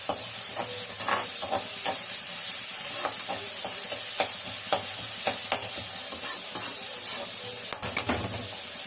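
Small sambar onions sautéing in a pan for a Chettinad dish, a steady close sizzle with occasional stirring scrapes and clicks.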